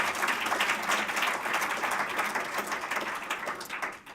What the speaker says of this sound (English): Big round of applause for Mandy again.